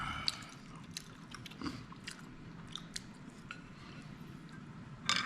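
Close, soft chewing of spicy fish stew, with wet crunches and sharp bites scattered through steady mouth noise and no talking.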